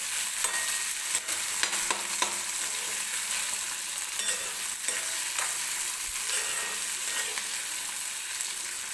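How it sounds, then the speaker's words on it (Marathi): Tomatoes frying in oil for a Marathi cluster-bean (gavar) curry, giving a steady, dense sizzle with occasional stirring clicks throughout, close and continuous with no talk. "टोमॅटो पण व्यवस्थित मऊ होईपर्यंत आपल्याला तेलामध्ये भाजून घ्यायचं आहे"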